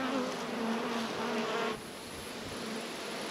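Bees hum steadily around a honeycomb, a dense, close buzzing drone that holds level and then drops slightly softer partway through, with no talking.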